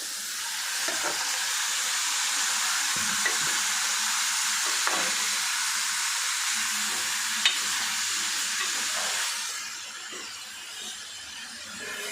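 Marinated chicken frying in a pan for a quick chicken curry, a loud, steady hissing sizzle with a few stirring knocks, easing off toward the end, no voices.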